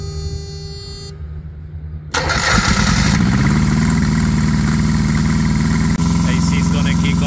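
A Perkins APU engine on a truck starts up after a belt and alternator replacement and settles into a loud, steady running drone with a constant hum, preceded by a short tonal whine and a silent gap.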